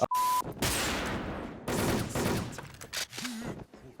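Desert Eagle Gold pistol shots in a shooter video game, a few loud close blasts with ringing decays between them, plus a short tone and other game effects.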